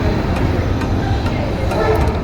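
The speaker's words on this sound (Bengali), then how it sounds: "আমরা ট্রেন থেকে নামার পরে সেই ট্রেনটা আমাদের ছেড়ে চলে যাচ্ছে।" The Madhumati Express pulls away from a station on the Dhaka–Mawa line, a loud steady rumble and rolling clatter of rail wagons heard close by.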